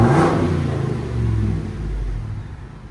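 Ford F-250 with a 7.3L Godzilla V8 and muffler delete revs hard, a loud deep exhaust roar that surges at the start, eases, then swells again before settling into a strong rumble.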